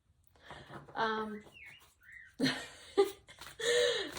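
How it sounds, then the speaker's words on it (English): Songbirds calling from outside during rain, short whistled chirps and rising tweets in scattered bursts, moderately distant and fairly quiet, with brief pauses between calls. "listening to the rain falling down and then the beautiful bird sounds from outside"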